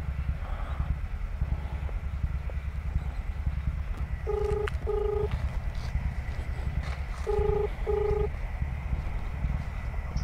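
A telephone number is dialed with two short bursts of keypad tones, each a quick run of beeps, over a steady background hum.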